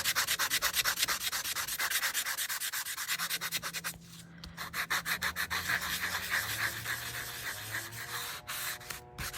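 Nail buff rubbing back and forth over metal tape art, a fast, steady scratchy rhythm of short strokes, close and loud, with a brief pause near the middle before the rubbing resumes.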